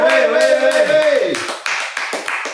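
A short vocal exclamation gives way to several sharp hand claps close to the mic during a live online exam-prep class, the claps coming in an uneven burst.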